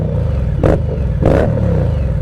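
An Indian Scout motorcycle with a Reinhardt exhaust idles with a deep, loud, steady rumble, broken by two short throttle blips a little over half a second apart.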